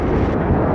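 A grenade goes off in the Titanfall 2 multiplayer shooter, a loud, dense, rumbling blast that fills the whole short moment with no voice over it.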